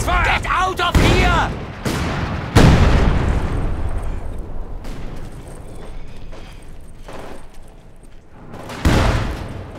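Heavy mortar fire and explosions in the World War II strategy game Company of Heroes 2, during a 3v3 multiplayer battle. Several loud, booming impacts rumble out at irregular intervals over continuous battlefield noise.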